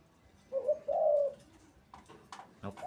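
A dove coos close by in a rising, drawn-out phrase, then gives a few shorter notes, clear against a quiet background.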